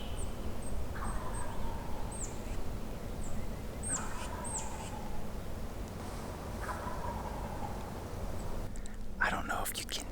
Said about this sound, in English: a bird gobbled down this way